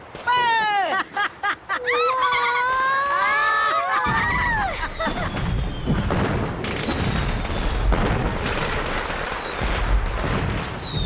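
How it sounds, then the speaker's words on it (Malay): A crowd of children shouts and cheers as a rapid string of sharp firecracker pops and bangs crackles on, loud and close. "Bahayalah main mercun ni."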